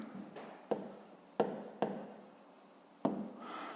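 An inequality is written out by hand for a fifth-grade math exercise, a soft continuous scratch of pen on paper broken by a few sharp taps, close and quiet with no talking.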